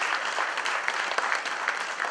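An audience at a small-business awards ceremony in St. Lucia claps steadily, a dense, even wash of applause from a crowd throughout.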